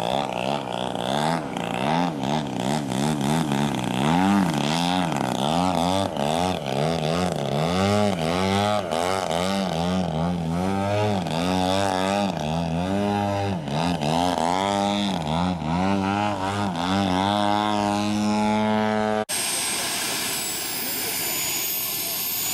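A large model airplane with a DA-100 engine pulls out of a maneuver at a Triple Tree radio-control fly-in. The loud, steady engine drone swells and dips in pitch throughout, then cuts off abruptly near the end.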